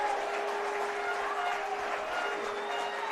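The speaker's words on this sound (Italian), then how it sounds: "E tutta in festa Borgo della Vittoria, con tifosi che quasi non si aspettavano questa conclusione" Fans cheer a goal at an amateur Eccellenza league football match between Clivense S.M. and Calcio Schio, steady distant applause and crowd noise sustained throughout, with a steady tone running underneath.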